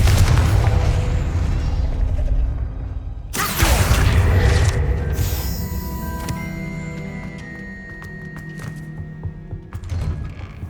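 A Confringo fire spell explodes in the video game Hogwarts Legacy: a loud booming blast hits around three seconds in, followed by crackling debris and lingering rumble over a dense game background.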